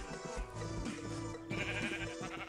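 Sheep bleat in the Minecraft video game in quiet, repeated short calls over a soft background, with no talking.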